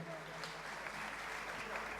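An audience applauding to welcome a guest at a 75th birthday celebration. The clapping is faint and steady, heard under talk throughout.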